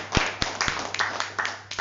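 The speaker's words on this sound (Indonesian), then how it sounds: "Tepuk tangan dulu." Scattered audience clapping at a Pornas fertilizer product presentation, a handful of sharp, separate claps at irregular intervals rather than a full ovation, fairly close and moderately loud.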